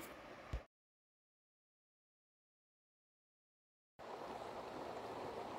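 The McKenzie River flowing steadily at an outdoor spot, a continuous broadband rush of water heard briefly at the start and again after a silent gap, close and fairly loud.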